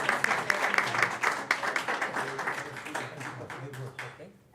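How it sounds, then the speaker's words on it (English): Audience applause at a school district board meeting, a dense wash of many hands clapping that fills the room steadily and then tapers off toward the end. "for one more round of applause"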